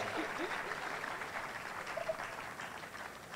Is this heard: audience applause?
yes